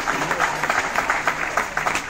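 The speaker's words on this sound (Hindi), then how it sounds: "सर के लिए एक बार जोरदार तालियां" A seated audience at a business seminar in Mumbai gives a short burst of clapping for a speaker, rhythmic and fairly close, with voices mixed in.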